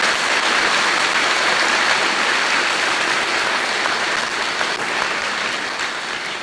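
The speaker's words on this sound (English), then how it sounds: "Let's give them a round of applause." An audience at a high school commencement ceremony applauds in a steady, rain-like wash of many hands clapping, holding at an even level before easing off slightly.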